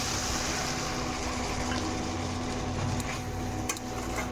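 Water pours into a cooking pan holding a small-fish and spinach stir-fry, a continuous close gushing and splashing that runs steadily before cutting off abruptly at the end.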